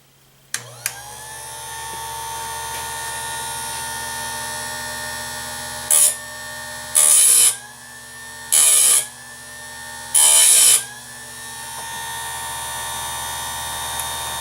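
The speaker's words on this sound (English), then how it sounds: "This is not the best sharpener, but it works pretty good because it can keep the angles all fairly close" Electric chainsaw chain sharpener grinding teeth: a constant motor hum runs throughout, broken by four short, loud, harsh grinding bursts spaced a second or two apart.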